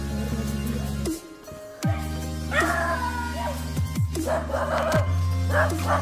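A dog at a resort gives several sharp barks and yips, spaced irregularly across the clip. They are fairly close and stand out clearly over a low, steady background hum.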